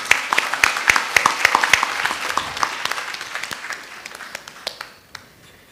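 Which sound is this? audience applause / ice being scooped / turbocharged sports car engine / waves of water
audience applause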